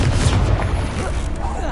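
A fiery spell cast in the Hogwarts Legacy video game bursts out as a dense, roaring blast, loud and close, with a rumbling low end that holds steady for a couple of seconds.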